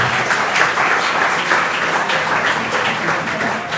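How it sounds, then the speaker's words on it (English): A crowd applauds steadily, with dense clapping at an even level throughout and no pause. "Give yourself a round of applause"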